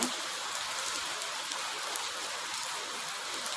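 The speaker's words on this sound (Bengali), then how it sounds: "বৃষ্টিটা থামবে বুঝতে পারছি না, যেতেও পারছি না।" Heavy rain pours down in a steady, dense hiss, even and unbroken throughout, with no voices.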